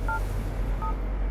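Two short dual-tone beeps from a phone keypad being dialed, one near the start and one about halfway through, each brief and clear over a low steady background hum.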